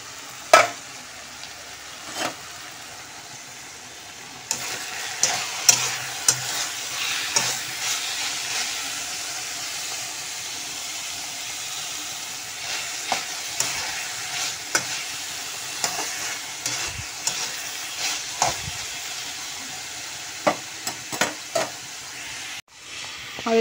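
Vegetable bhaji frying in a pan on a home gas stove, a steady close sizzle broken by repeated scraping and stirring clatters throughout.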